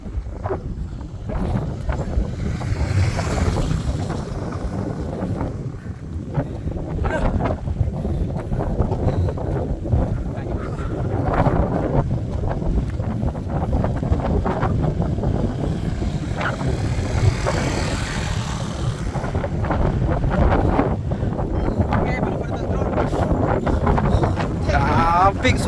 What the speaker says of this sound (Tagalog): Sobrang lakas talaga ng hangin.